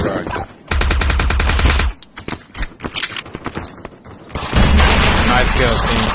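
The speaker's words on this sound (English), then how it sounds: "Bro is shooting his own teammate." Rapid bursts of automatic gunfire in the VR shooter game Aim XR, loud and close, in two long sustained volleys separated by scattered single shots and clicks, with a voice talking in between.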